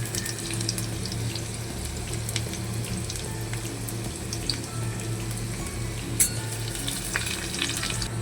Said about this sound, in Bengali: তেল গরম হয়ে গেছে, এবার দিয়ে দেবো শুকনো লঙ্কা। দিয়ে দেবো থেতো করা রসুন। দিয়ে দেবো অল্প পাঁচফোড়ন।